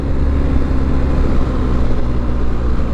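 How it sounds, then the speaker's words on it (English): A BMW R 1250 GS motorcycle engine rumbles deep and loud while the bike is ridden, a steady low-pitched drone with a throbbing pulse and no voices over it. "that engine is super characterful as well"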